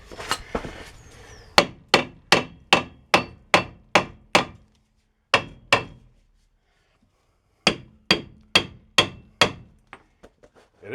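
Sharp metallic hammer strikes on a rusty rear brake of a 2007 Chevy Impala, struck in quick rhythmic bursts of about eight blows, a pause, two more hits, then another run, close and loud with no talking.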